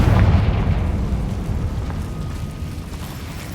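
A Confringo blasting curse detonating in a Harry Potter video game: a loud, deep, rumbling explosion that starts heavy and slowly fades over a few seconds.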